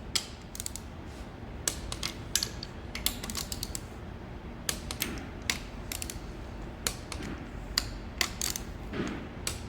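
A torque wrench ratchets in quick bursts of sharp clicks as a bolt is tightened, irregular clusters of clicking close by over a faint background, with no voices.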